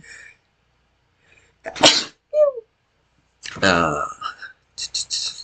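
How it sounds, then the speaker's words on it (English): A single sharp sneeze bursts out close to the microphone amid quiet room tone, followed by a few short spoken words. "I'm gonna sneeze."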